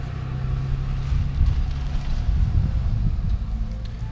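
A neighbour's car passing outside, a low engine rumble swelling and fading at moderate distance, with some wind noise and no voices.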